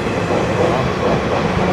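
Small local MEMU train passing near Guntur, a loud continuous rumble and clatter of wheels on rails, close by.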